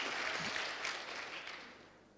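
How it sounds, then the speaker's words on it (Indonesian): A church congregation breaks into dense, steady applause, a broad wash of many hands clapping together that eases off slightly toward the end, with no voices clear above it. "Ayo beri tepuk tangan yang meriah untuk Tuhan kita."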